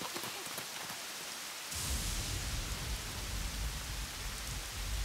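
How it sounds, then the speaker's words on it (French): Rain in a children's animation, a soft patter that swells suddenly into a dense, steady downpour with a low rumbling undertone, heard alone without voices. "Je crois qu'il va pleuvoir pendant encore un bon moment"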